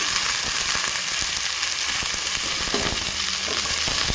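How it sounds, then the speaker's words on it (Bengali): Carrot, cauliflower and beans fry lightly in a pan with a steady, even sizzle, punctuated by soft taps and scrapes of stirring. "তো এখানে আমি সব সবজি আমি একটু হালকা ভেজে নেব"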